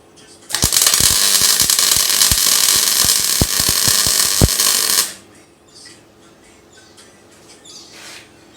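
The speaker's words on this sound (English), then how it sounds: "now I'm just going to spot weld it to the floor through those holes" Spot welding a panel through drilled holes onto the floor of a Mk2 Ford Escort RS2000 under restoration: a loud continuous welding hiss and crackle with sharp pops lasting about four seconds, then stopping into quiet background.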